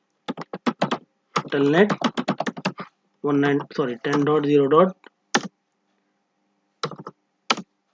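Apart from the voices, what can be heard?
typing on computer keyboard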